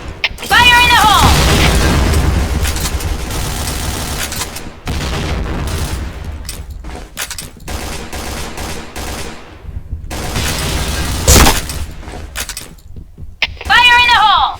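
Video game combat with repeated loud explosions and bursts of gunfire, separated by short quieter gaps, with a voice calling out over the action.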